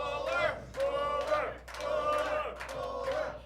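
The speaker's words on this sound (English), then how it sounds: "The crowd here at the Pro Fitness Plus Studios solidly behind Rick Fuller and Scott Reed." A small crowd at a wrestling show in the Pro Fitness Plus Studios chants in rhythmic, repeated bursts of voices, about four swells in quick succession, loud and close, with a low hum underneath.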